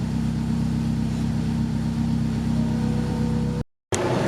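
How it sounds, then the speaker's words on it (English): Honda S2000 engine running steadily during a street tuning session, a close, even mid-pitched hum with a constant low tone, cut by a short dropout near the end. "I had to turn on the car."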